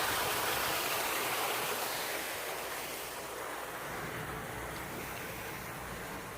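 A video-game waterfall hides a cave behind it, and its steady broadband rush of falling water plays loud and continuous throughout, easing slightly in level toward the end with no voices over it.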